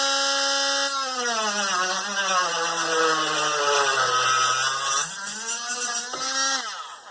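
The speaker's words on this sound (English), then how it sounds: "Now I'm cutting off the old fan with the Dremel" A Dremel rotary tool cuts through the plastic supports of an old CPU fan, a loud, steady high-pitched whine whose pitch dips and rises as the bit loads and frees up, running continuously with no talking.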